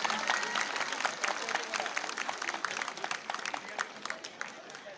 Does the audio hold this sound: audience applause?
yes